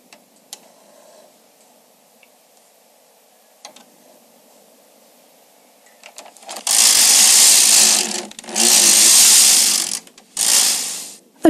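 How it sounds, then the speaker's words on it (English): A Bond Elite knitting machine carriage is pushed across the bed to knit a row, making loud, close, grinding-clicking passes in three bursts after a few quiet clicks, with no talk. "With the key plate back in the carriage, take up the slack and knit the row."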